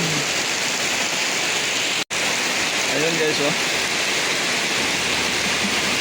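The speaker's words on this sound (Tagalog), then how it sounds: "Grabe na sobrang lakas ng ulan" Heavy rain pouring outside the Lake Apo parking area, a loud dense continuous roar with one sudden break, while someone speaks briefly over it.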